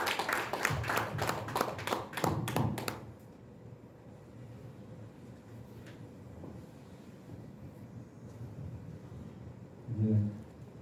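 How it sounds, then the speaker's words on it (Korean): Short burst of audience clapping at a Korean reunification forum, sharp overlapping claps for about three seconds and then stopping abruptly, followed by quiet room tone and brief murmurs. "큰 박수 부탁드리겠습니다"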